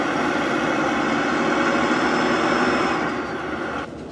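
A truck engine revs hard in neutral while stuck in a tight corner between two fences, a loud, sustained roar that holds steady before easing off near the end.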